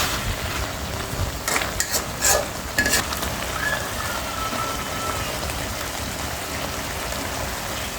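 Leafy greens cook with fish in a pan, giving a steady hiss and crackle, with a few scraping stirs near the middle and no talk.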